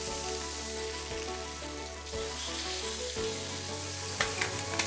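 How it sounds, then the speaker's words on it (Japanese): Hida beef searing on a hot iron griddle at a Kyoto lunch spot, a steady close sizzle and fry that carries on without a break, with a few light scraping taps near the end. "やっぱり鉄板じゃないとこの表面カリッとね。"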